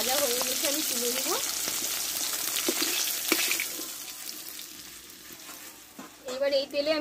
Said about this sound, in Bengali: মাছটা একটু ভেজে নিয়েছি, আমি উঠিয়ে আর একটু ভেজে নেবো ভালোভাবে